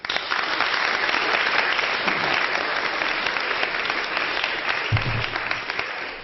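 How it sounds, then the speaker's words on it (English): An audience at a formal debate applauds a guest speaker's introduction with steady, even clapping that fills the room throughout. "Please give him a friendly round of applause."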